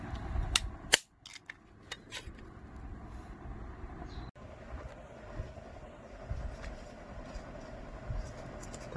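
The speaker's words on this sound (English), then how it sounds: "Now I want to clip this paper." Scissors snip paper while a handmade Kad Raya greeting card is being made, giving a few quick, sharp cuts close by against a quiet indoor background.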